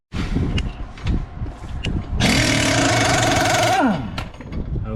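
Pneumatic impact gun removing bolts while a Bilstein B4 shock absorber is replaced on a Mini Cooper S R53, a loud rattling burst of about two seconds between lighter clanks, with no talking.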